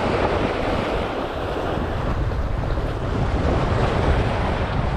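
Sea waves wash and slap around a small fishing boat while strong wind buffets the microphone, a dense continuous roar that is loud and close throughout.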